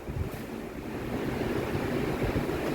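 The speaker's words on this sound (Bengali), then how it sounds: "আমগুলোকে আমি ধুয়ে নিচ্ছি" Four mangoes being washed in water, a steady, close rushing and splashing wash that fills the whole moment without any talk.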